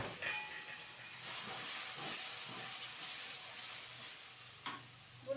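Blended spice paste hitting a hot pan with a strong hissing sizzle, steamy and steady with soft stirring scrapes and a couple of sharp clinks near the end; no voices.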